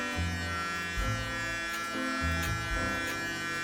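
Panasonic electric trimmer cutting through a full beard at a barber's, its steady close buzz dipping and shifting in pitch as the blades move through the hair in short strokes, with no talking.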